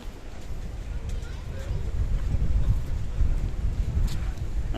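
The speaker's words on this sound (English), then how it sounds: "There's a bit of wind around" Steady wind noise buffets the microphone at Ayia Napa harbour in Cyprus, a low rumbling roar that swells slightly midway and holds throughout with no clear voices.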